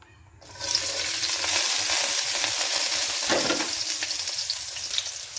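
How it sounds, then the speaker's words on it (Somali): Finely chopped onions hit hot oil in a pan and sizzle loudly and continuously, with a brief stirring scrape partway through and no talking. "hadda waxaan kusoo shubanaa basashana si yar yar ayaan usoo jarjaray"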